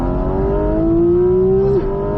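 A Porsche 718 Cayman GT4 RS accelerates hard on a race circuit, its high-revving flat-six rising steadily in pitch for nearly two seconds, then dipping briefly at an upshift before climbing again, loud and close from inside the car.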